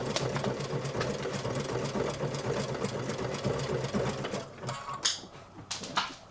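Sewing machine stitching fabric masks, running a steady rapid mechanical chatter for several seconds before stopping, with a few brief clicks and knocks afterward; close, no talking.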